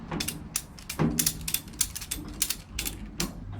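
A ratchet strap is cranked tight over a load, with a quick run of close, clicking ratchet strokes in an uneven rhythm and no talking.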